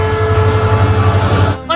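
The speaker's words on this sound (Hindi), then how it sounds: "अरे ट्रेन आ।" A train passes on a railway track, a loud steady rumble with a sustained horn tone, cut off abruptly near the end; no talking.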